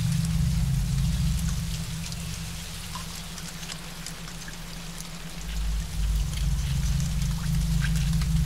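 Steady rain pours down with a dense hiss of drops striking surfaces and a low rumbling undertone, constant and fairly loud throughout, with no voices.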